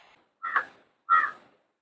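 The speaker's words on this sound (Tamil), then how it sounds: "என்ன நடுராத்திரில காக்கா கத்துது?" A crow caws twice at night, two harsh, close calls about half a second apart, each clearly separated by silence.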